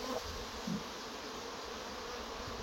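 Honeybees from a very strong colony buzz steadily in a dense, continuous drone around a hive being moved out of its damaged wooden box outdoors, with no talk over it.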